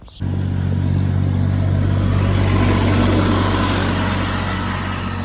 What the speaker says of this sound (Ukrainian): трактором ми доїжджаємо на роботу.